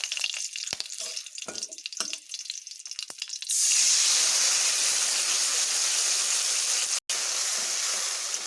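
Soaked raw mango pieces hit hot tempering oil, bursting into a loud, steady sizzle after a few seconds of scattered clinks and small pops, then frying on continuously.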